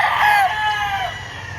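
A rooster crowing on a poultry farm, one loud, close, drawn-out call of about a second that trails off.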